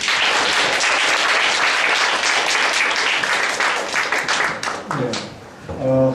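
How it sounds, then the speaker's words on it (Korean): An audience applauds at a Catholic University student meeting with the vice president. The dense, crowded clapping holds steady, then thins out as a voice begins talking near the end. "박수로 맞아주십시오."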